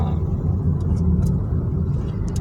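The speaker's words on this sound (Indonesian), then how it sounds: "Kendaraan di sini rame banget." Busy road traffic heard from inside a Honda Brio fitted with full sound-deadening insulation: a steady, muffled low rumble of passing vehicles, continuous and fairly loud, with faint higher hiss on top.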